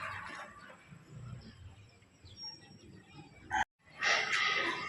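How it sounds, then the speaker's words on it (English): Chickens cluck softly on a farm where pigs are also kept. The low, scattered calls sound quiet and somewhat distant, with a brief louder burst of clucking near the end. "So we're checking the chickens and pigs now."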